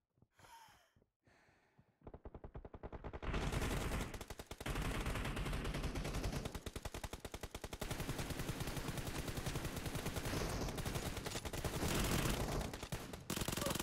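Sustained automatic gunfire from a PUBG Mobile match, opening with a few brief breaths and quiet sounds before dense, loud, rapid bursts of shots fill the rest of the stretch almost without pause.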